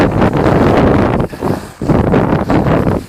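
Strong wind buffeting the microphone on a ski slope at Gogołów, Poland, in loud, roaring gusts that briefly drop off before surging again.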